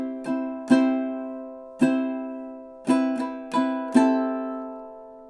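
A ukulele is strummed in a triplet pattern, sharp chord attacks arriving in uneven clusters, some quick pairs and some spaced apart, each ringing and decaying, played alone and close.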